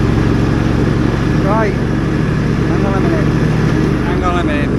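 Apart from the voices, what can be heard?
engine running on a campsite grass-cutting vehicle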